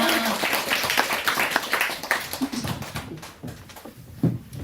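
An audience at a Korean church gathering claps warmly, a dense burst of applause that gradually thins and trails off into scattered claps and murmurs.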